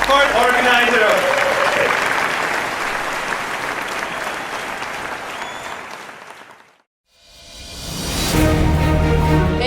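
An audience at the NG Poland 2019 tech conference gives a loud burst of applause for an organizer that slowly fades to silence, then a fresh wave of clapping and crowd noise rises again.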